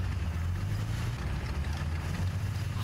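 A video game engine revs as a steady, loud low drone with a deep rumbling layer and faint wind-like hiss, continuous for the whole stretch.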